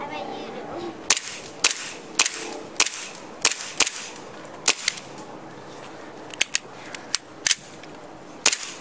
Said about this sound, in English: Palmetto blowback. Airsoft with a green gas. Let's shoot that.